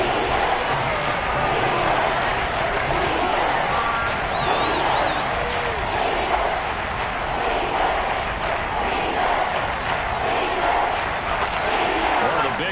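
In a football video game, a dense crowd roars steadily through a big third-down moment, loud and continuous beneath a commentator talking throughout.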